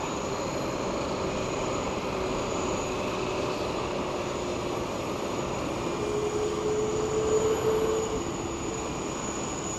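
A Vietjet jet airliner at Sydney Kingsford Smith Airport, a steady distant engine roar that holds even and broadband throughout, with a faint whine rising briefly toward the end.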